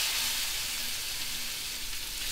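Shrimp frying in a pan with butter, a steady close hiss and sizzle running continuously without pauses or talk.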